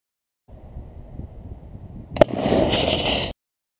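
A brand-new air tank bursts in a destructive pressure test, with low rumbling noise building, then a sharp loud crack followed by a roaring hiss of escaping air that stops abruptly.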